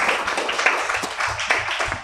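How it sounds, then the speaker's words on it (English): An audience claps at a public closing address, a dense patter of many hands that stays fairly loud for the full two seconds with no voices over it. "Let's give him a heart hand clap."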